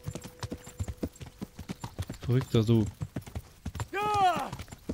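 A horse gallops in the medieval video game Kingdom Come: Deliverance, its hooves beating a steady, quick clip-clop throughout while someone speaks over it, with a brief neigh or vocal cry near the end.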